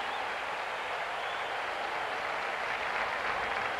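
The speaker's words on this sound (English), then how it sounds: "He is getting a great, great hand from this crowd." A steady wash of stadium applause from a large crowd at a 1981 Florida Gators vs Miami Hurricanes college football game, greeting an injured player as he comes off the field, broad and continuous without voices standing out.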